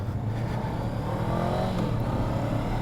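A 2019 Honda CBR 500R with about 2,000 miles on it pulls away and rides off, its engine a steady, fairly loud drone, with wind rushing past and no talking.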